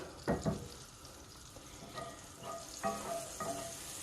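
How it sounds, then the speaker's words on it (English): Butter and canola oil sizzling in a skillet, a soft steady frying hiss with a few light stirring scrapes, quiet and close, no voices. "I already have about a tablespoon of butter melting in a skillet, and then I am, now that it is melted, going to add about a tablespoon of canola oil"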